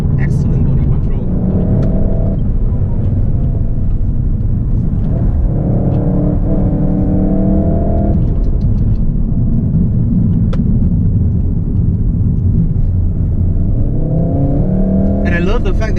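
Volkswagen Golf R with four-wheel drive, its engine droning loud and steady with swells in pitch as revs climb and ease, heard from inside while someone talks over it.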